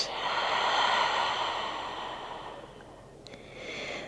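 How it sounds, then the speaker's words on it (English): Slow deep exhale through the nose during a yoga session, a long airy breath that fades over several seconds, followed by a softer breath at the end; close and quiet, with no talking. "And last one, breathe in. And breathe out."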